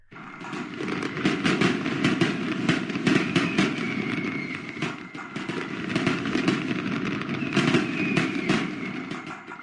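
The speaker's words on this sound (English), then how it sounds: "That's enough fireworks there, guys." Fireworks go off in a baseball video game set at a 1961 Red Sox versus Washington Senators game, a dense, continuous crackle of rapid pops and bangs held for several seconds without speech.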